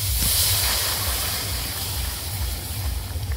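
Panch phoron, dried red chillies and bay leaves hit hot oil for bottle gourd dal, giving a loud, continuous hissing sizzle with no voices.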